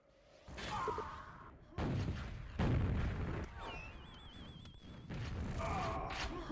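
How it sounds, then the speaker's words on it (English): Rockets fire in a QuakeWorld team deathmatch, several heavy booming launches and explosions in quick succession, along with whooshes and electronic game tones, fairly faint overall. "Gorgoroth shooting rockets from ring to quad"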